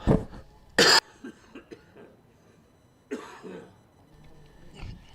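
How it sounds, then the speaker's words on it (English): A cricket commentator coughs in the commentary box at a County Championship match, several sharp close coughs and a throat clear, each separated by quiet pauses, with no talk. "Excuse me, I'm going to cough."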